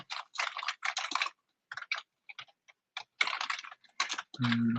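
Rapid bursts of typing on a computer keyboard while writing code, close and crisp keystrokes in quick clusters separated by short pauses, ending with a brief low hum.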